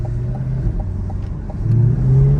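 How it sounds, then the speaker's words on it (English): A 2023 C8 Corvette Stingray driven through a neighborhood with windows down and exhaust sound up, a steady low engine rumble that swells as the revs climb toward the end, close and loud with no talk. "do some neighborhood driving, so that you can hear the engine"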